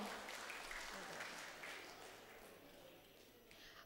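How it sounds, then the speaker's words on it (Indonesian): Convention hall audience clapping at a career preparation seminar, sustained soft applause from many hands that slowly fades, heard at a distance. "Ini aplausnya kok lama sekali. Aplaus lagi dong."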